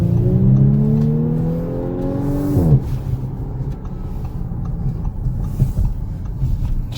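A 2019 Audi S5 Sportback engine revs up through rising pitch from inside the cabin, then drops off abruptly into a lower steady drone with road noise.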